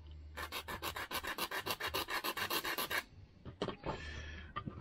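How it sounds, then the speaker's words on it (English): Sandpaper rubbed back and forth on the ends of a wooden part for an HMS Victory ship model, a quick run of about a dozen close, even rasping strokes, then a few slower scrapes. "So, we need to sand the ends."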